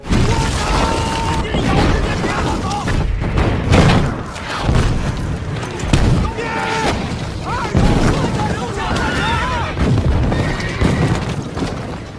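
Heavy artillery explosions from a Chinese Civil War battle scene hit as loud, deep booms and crashes, several in a row, mixed with shouting or cries across the clip.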